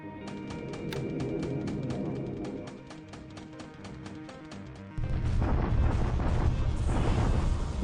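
Naval bombardment at Loyang in a WWII strategy game: a steady series of rapid booming shots, then a heavier, louder rumble of explosions taking over for the last few seconds.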